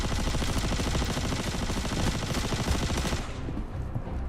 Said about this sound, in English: After hearing the gunfire somewhere above me maybe